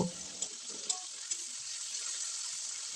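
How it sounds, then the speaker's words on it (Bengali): Chopped onions fry in hot oil left from cooking rohu fish, producing a dense, even hiss with a few light clicks of a spatula early on. "প্রথমে দিয়ে দিলাম পেঁয়াজ কুচি পেঁয়াজটাকে একেবারে লাল লাল করে ভাজবো না একটু কম ভাজবো"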